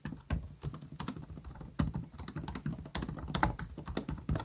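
Rapid, steady typing on an HyperX Omen 15 gaming laptop keyboard, close and fairly quiet, with clicky, thumpy keystrokes in an irregular rhythm and no voices.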